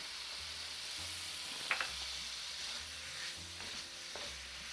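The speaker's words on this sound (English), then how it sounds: "we fry this in the masala for a couple of minutes" Steady sizzling of bitter gourd frying in masala in a pan, with occasional stirring scrapes and clinks, no voices.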